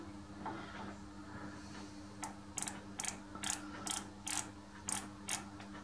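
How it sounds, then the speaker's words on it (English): A powered lathe slotter running with its feed engaged gives a quiet mechanical hum and a steady series of sharp ratcheting clicks, about two per second, that start partway through and continue to the end with no talking. "It's noisy with that feed on."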